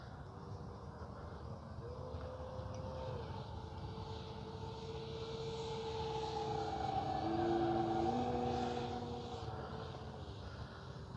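A Hangar 9 J-3 Cub RC model airplane with a 10cc engine drones steadily overhead, a faint continuous engine whine that swells slightly as it passes nearer mid-flight.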